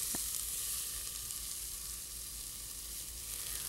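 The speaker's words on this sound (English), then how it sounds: "I'll start by sautéing my onions for about 3 minutes in olive oil." Onions sauté in olive oil with a steady, dense sizzle that continues unbroken, close and even, with no talking.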